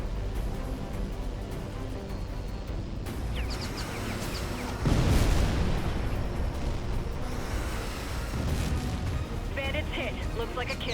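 A destroyed ground unit explodes in the jet combat game H.A.W.X. 2, a loud booming burst rising out of steady roaring engine and battle noise, with radio-style voices talking.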